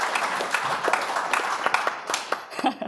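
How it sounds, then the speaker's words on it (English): A panel-session audience gives a modest round of applause, with scattered individual claps at a moderate level and a faint voice underneath. "Everyone give him a clap"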